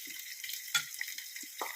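Tempering for dal with fenugreek leaves, curry leaves and onions sizzling in hot oil, a soft steady fry with a few sharp crackles and pops rising out of a quiet background.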